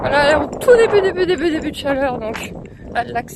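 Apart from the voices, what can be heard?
No everyday noise stands out behind the speech.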